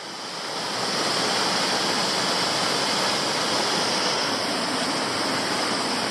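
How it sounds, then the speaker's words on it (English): Steady rushing roar of a small waterfall about 3 metres high on Toolona Creek, Queensland, continuous broadband splashing water close by, with no voices. "I've arrived at the next waterfall"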